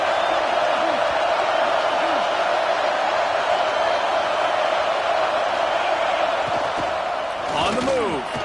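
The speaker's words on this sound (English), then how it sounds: "3rd down play in the red zone, and this crowd is at fever pitch." A football stadium crowd roars at fever pitch before a third-down play in the red zone, a dense, loud, sustained wall of cheering with a play-by-play voice speaking over it.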